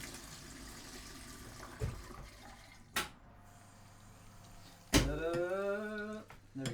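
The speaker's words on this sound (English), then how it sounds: "go over to the sink. Why not? This is where water comes from. The sink." A kitchen sink tap being run, with a few sharp clunks and bangs before the water gushes on loudly and fills for a couple of seconds with a rising pitch as it pours.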